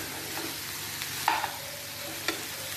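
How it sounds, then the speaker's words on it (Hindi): Steamed vegetables gently tossed in a pan, with a few soft scrapes and clinks of a spoon spaced out over a quiet background hiss, close and low in level. "इनको हल्के हाथों से हम लोग मिक्स करेंगे।"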